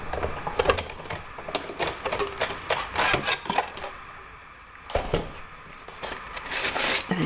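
A Big Shot die-cutting machine is cranked by hand, feeding card through an embossing folder. It gives a close, uneven run of clicking, grinding mechanical rattles that swell and ease with each turn, with a short lull partway through and no speech.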